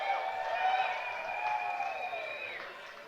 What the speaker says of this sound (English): Fans are still loud and rowdy here,